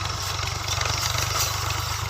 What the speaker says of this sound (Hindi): ये ड्राइवर ट्रैक्टर चला रहा है